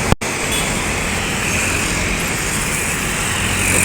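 A bus passes on a road in Riau, a steady broad roar of engine and tyres that holds loud and close throughout the clip and swells slightly toward the end.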